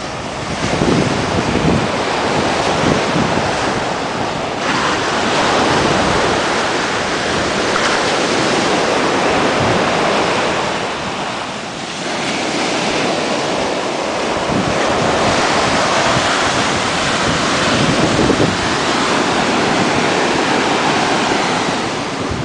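Ocean surf crashing steadily, with continuous loud wave wash and heavy wind buffeting the microphone, and no voices.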